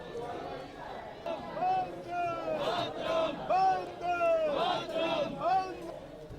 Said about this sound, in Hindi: शहीद के अंतिम दर्शन के लिए लोगों की भीड़ उमड़ पड़ी। माहौल गमगीन था, लेकिन लोगों ने गर्व से भारत माता की जय के नारे भी लगाए।